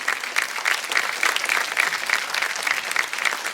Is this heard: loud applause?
yes